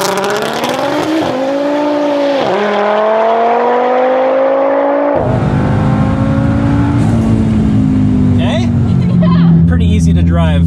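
The Hoonicorn Mustang race car launches and accelerates hard with a loud engine roar that climbs in pitch, drops briefly at shifts, then turns into a harsher, rougher surge, close and dominating throughout.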